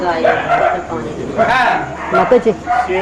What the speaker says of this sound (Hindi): कुत्तों की आवाज ज्यादा सुनाई पड़ रही है